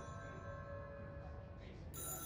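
A telephone rings faintly in an office setting, a thin steady electronic tone sounding quietly in the background.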